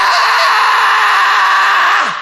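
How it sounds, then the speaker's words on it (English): A singer's loud, raspy scream made with glottal compression distortion, held steady for about two seconds before trailing off with a falling pitch. "like I'm doing this kind of scream thing, right?"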